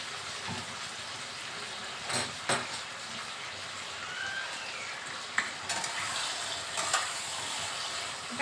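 Taro and mixed vegetables frying together in oil for a prawn and taro dish, a steady soft hiss and crackle with a few louder pops and stirring scrapes throughout.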